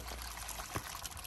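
Water at 120 degrees pours into a container for wool scouring, a soft continuous splashing trickle, close and fairly quiet, with no voices.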